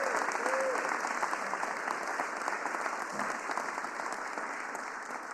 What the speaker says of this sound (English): let's give our Mayor Cherelle Parker a real big round of applause